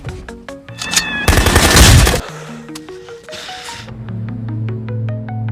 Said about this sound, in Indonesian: Endingnya makin panas waktu John tiba-tiba muncul dan dor, Rohit tumbang.